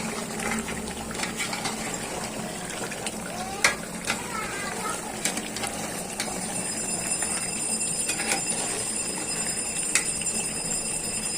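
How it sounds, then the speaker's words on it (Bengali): Garam masala and meat fry in a pan, a continuous sizzle with occasional scraping and stirring clinks from a utensil, close and moderately loud, with a brief high tonal ring partway through and faint voices now and then. "এতে গরম মশলা এখনো কষাই হচ্ছে"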